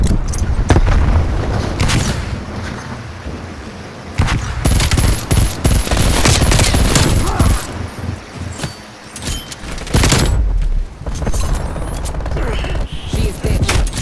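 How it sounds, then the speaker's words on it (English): In the Call of Duty Black Ops Cold War video game, a frag grenade and heavy gunfire erupt. Loud sustained automatic fire and blasts dominate, with brief lulls before the shooting resumes. "Throwing frag."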